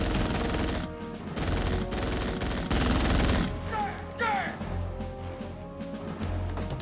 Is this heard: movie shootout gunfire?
yes